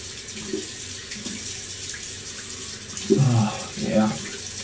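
A tap runs at a sink while a face is washed, a steady faint water hiss with splashing swells near the end.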